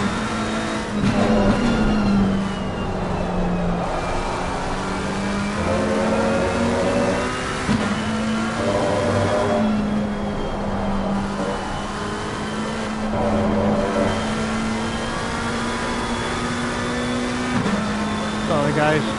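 McLaren race car in Assetto Corsa Competizione at Kyalami, its engine revving loudly through repeated upshifts and downshifts under continuous commentary.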